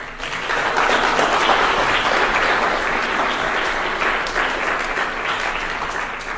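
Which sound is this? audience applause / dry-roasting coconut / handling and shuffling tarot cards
audience applause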